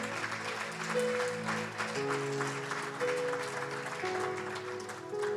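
A church congregation claps steadily and warmly for several seconds, the applause blended with sustained musical tones in the background.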